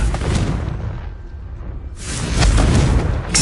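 A Confringo fire spell blast in Hogwarts Legacy, a loud close explosive boom, then a dip, then a second heavy rumbling burst that swells and holds to the end.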